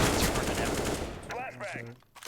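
Counter-Strike flashbang grenade going off as a loud, dense burst that fills the first second or so, then fades out under in-game voice chatter.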